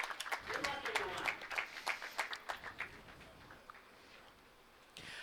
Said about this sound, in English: finalists, a nice round of applause